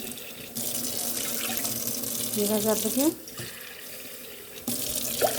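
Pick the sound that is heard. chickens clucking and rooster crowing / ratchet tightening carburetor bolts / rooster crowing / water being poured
water being poured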